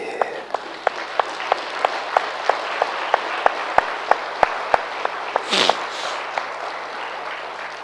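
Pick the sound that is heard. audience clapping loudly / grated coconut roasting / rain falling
audience clapping loudly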